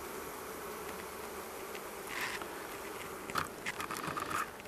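Honeybees hum in a low, steady, continuous drone at an opened beehive in mid-November, with a few louder passes near the end and faint handling noises.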